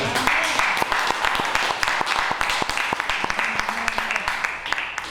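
A church congregation applauds and cheers throughout, dense clapping with sharp individual claps over a steady crowd roar, voices rising within it.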